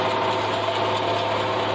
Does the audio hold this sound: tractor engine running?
yes